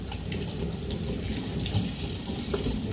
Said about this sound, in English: I'm gonna rinse my knife off real quick